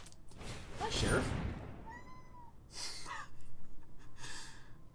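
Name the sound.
cat meowing in a video game card game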